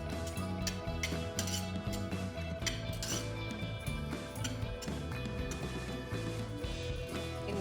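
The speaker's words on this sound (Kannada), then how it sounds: "ದ್ರಾಕ್ಷಿನ ಹಾಕೋತಾ ಇದ್ದೀನಿ." Raisins fry in a pan for rava halwa, with soft continuous sizzling and scattered light clinks of a utensil against the pan, close and moderately quiet; music-like tonal layers sit underneath.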